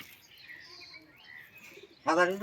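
Domestic pigeons at a home loft coo and call softly, with faint overlapping murmurs and flutter, then a louder nearby burst of calls at the end.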